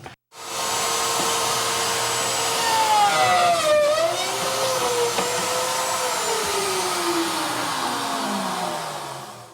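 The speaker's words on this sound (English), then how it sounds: "To make the pockets, I'm going to use my bench top pocket cutter." A bench top pocket cutter, a router cutting the slot and a drill boring the pilot hole, works pocket holes into wood. It makes a loud, steady motor roar with a whine that slides downward in pitch, running nearly the whole time.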